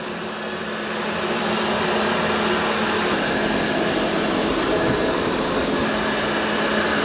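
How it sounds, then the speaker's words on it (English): Two Dreame robot vacuum-mops, an L20 Ultra and an X30 Ultra, vacuum and mop a room together, producing a steady, moderately loud motor hum and whoosh that swells slightly after the first second and then holds level. "They both sound the same, mopping and vacuuming as far as loudness"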